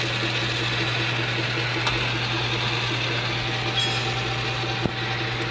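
Machine cutting a countersink in metal: a steady, loud motor drone with a constant hum runs throughout, with a faint high whine and a sharp click near the end.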